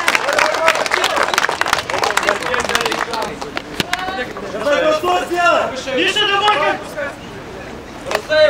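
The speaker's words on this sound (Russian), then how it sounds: "Так, аплодисменты, аплодисменты участникам." An audience at an amateur fight event in Glazov applauds the fighters in the ring, steady clapping and crowd noise running under a loud announcer's voice.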